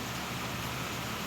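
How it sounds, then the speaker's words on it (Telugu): Heavy rain pours down steadily in Kothagudem, making a dense, even hiss with no breaks and no voices. "ఫుల్ వాన."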